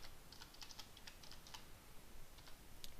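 Fingers type a folder path on a computer keyboard in quick, light clicks with short pauses, faint and close against a quiet room.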